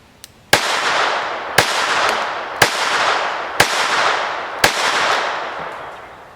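A Beretta 20X Bobcat .22 LR pistol fires five sharp, evenly spaced shots about a second apart, each followed by a long reverberating echo that fades before the next, loud and close.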